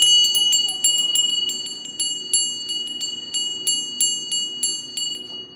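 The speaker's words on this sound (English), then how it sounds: "getting you a bell." A small bell rings repeatedly in a steady rhythm, each strike giving a bright metallic ping that decays quickly, close and fairly loud, over a faint low hum.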